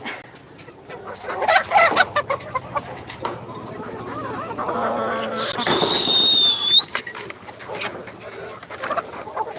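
Black hens in a small backyard flock cluck and murmur close by in an uneven chatter, with a voice talking in among the birds.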